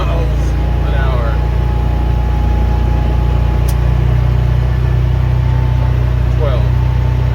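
A 2021 John Deere HPX615E Gator engine in low gear pulls up a hill with a steady, loud mechanical drone and hum that holds constant close by, with a person talking over it.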